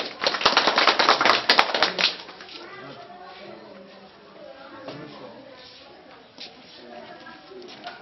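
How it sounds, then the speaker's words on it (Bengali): Audience applause at the closing certificate ceremony of a learning and earning development program: a dense burst of clapping for about two seconds, then voices talk over a quieter room. "একটু হাততালি দেন।"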